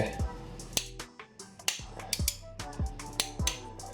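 A large torque wrench ratcheting while tightening a serpentine belt tensioner and pulley, giving a run of sharp close clicks in uneven bursts with faint talk underneath.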